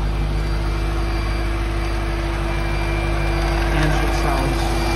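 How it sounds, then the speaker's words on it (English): A 1999 Mercedes-Benz C43 AMG engine idles steadily with a constant low rumble and hum, with faint background noise over it. "Engine sounds incredible"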